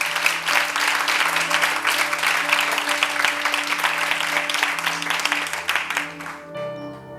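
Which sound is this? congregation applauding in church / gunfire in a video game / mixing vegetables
congregation applauding in church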